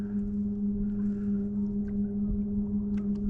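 A Newport NK180PRO electric trolling motor drives an Old Town 106PDL kayak at about 40% power into the wind, giving a steady close electric hum with faint water splashes.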